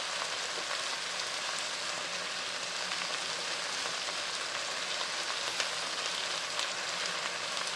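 Turmeric and red chili powder fry in oil in a pan for an okra dish. A faint, even crackling sizzle runs continuously throughout with no talking.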